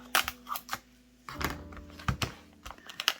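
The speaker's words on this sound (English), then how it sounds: "when we're all the way around, we're just going to cut it" Ribbon being snipped for a harvest wreath craft: a handful of short, dry scissor clicks and snips, close and fairly quiet, spaced irregularly with brief handling noise in between.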